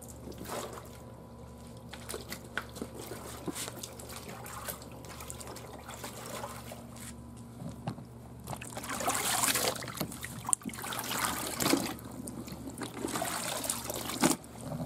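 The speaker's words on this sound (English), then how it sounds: "After a soak in the fixative bath, the overalls were rinsed with water" Running water splashing and trickling as dyed overalls are rinsed after a fixative soak, a steady low wash that grows louder and more turbulent in the second half, with brief sharper splashes.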